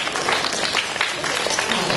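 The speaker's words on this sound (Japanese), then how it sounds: "拍手を求めてます" An audience at Miraikan, the science museum in Odaiba, Tokyo, gives a short round of applause, a dense, even patter of clapping with crowd murmur and possible voices mixed in.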